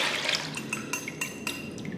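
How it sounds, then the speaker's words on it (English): A salt and chicken bouillon brine is poured into a container, a soft liquid splash with light clinks and taps against the vessel, close and fairly quiet, with no talk. "and I'm going to pour my mixture"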